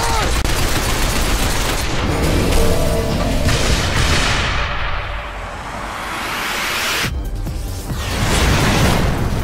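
Loud gunfire and heavy explosions in the shooter Binary Domain, a sustained roar of shots and booms with a brief lull before the barrage resumes.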